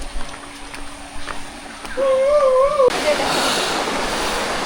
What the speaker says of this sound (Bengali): ফাইনালি চলে আসলাম চিত্তধারা ঝর্নার কাছে